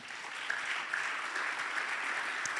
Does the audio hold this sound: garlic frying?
no